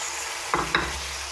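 Tomatoes frying in a pan on a steady sizzle, with two quick stirring scrapes in the middle of the short stretch.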